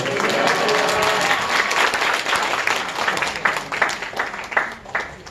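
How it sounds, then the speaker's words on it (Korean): A church congregation claps enthusiastically after a call of hallelujah, a dense burst of applause that gradually thins into scattered, uneven claps toward the end. "할렐루야 박수를 영접하겠습니다"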